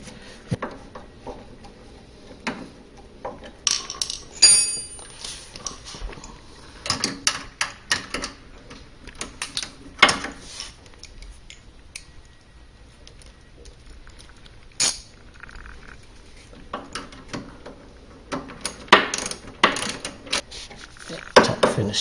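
Screws being tightened on the water filter housing of a Whirlpool refrigerator, a long series of small close clicks, taps and plastic knocks in irregular bursts separated by quiet gaps.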